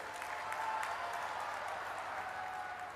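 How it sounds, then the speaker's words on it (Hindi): A crowd at a large public rally in Bhilwara applauding steadily, a broad wash of clapping hands at moderate distance, sustained without a break. "जोर से ताली बजाइए जरा"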